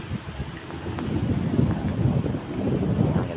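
Strong wind buffets the microphone in continuous loud gusts on Bulabog Beach, Boracay, Philippines, a kite-surfing spot, with faint surf rumbling underneath.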